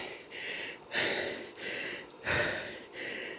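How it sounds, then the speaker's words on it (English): After a hard indoor cycling race, a rider breathes heavily and rhythmically, close up, with loud panting inhales and exhales about every 1.5 seconds. "Sorry for the heavy breathing, guys."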